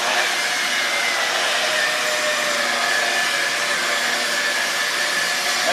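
Rotary polisher fitted with a red foam pad, running at slow speed under 1,000 RPM with a little polish to buff a wood lacquer finish, giving a steady, even whir that holds unchanged throughout, with no talking.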